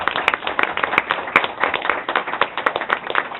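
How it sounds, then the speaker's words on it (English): Audience at a regular monthly board meeting claps in a modest, uneven round of applause, individual hand claps distinct and close, pulsing irregularly for a few seconds. "I think we should first applaud"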